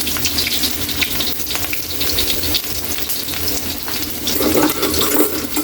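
Chopped onion, garlic and ginger sizzling in a hot pan, a loud, continuous close-up frying hiss that swells slightly near the end, with no voices.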